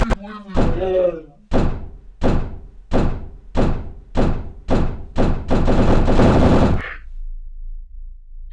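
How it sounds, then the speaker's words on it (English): A desk slammed repeatedly, about eight heavy, sharp thuds at a steady pace that speed up into a rapid burst before stopping, loud and close, preceded by a brief shout. "After repeatedly slamming his desk"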